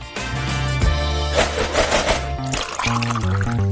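Fresh orange juice poured out in a steady liquid stream, heard under loud cartoon-style background music that shifts notes throughout.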